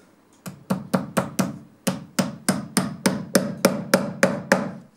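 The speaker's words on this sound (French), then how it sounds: "On va venir clouer le talon." Steady hammer blows drive nails into the wooden beech heel of a leather Cantal clog, about a dozen sharp, close strikes in an even rhythm with a short pause partway through.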